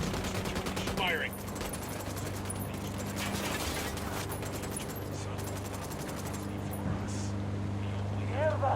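Video game gunfire, with bursts of rapid automatic shots rattling throughout over a steady low engine drone, while voices shout in the background.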